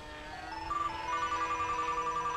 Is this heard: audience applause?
no